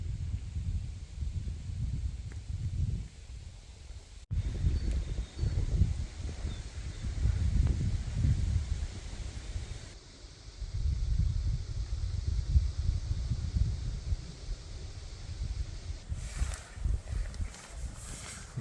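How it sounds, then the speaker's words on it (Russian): Strong, gusty wind buffets a parked Niva near Borovoe at night, a loud rumbling roar that swells and eases in waves for the full stretch, with no talk. "Огромный ветер какой бешеный просто."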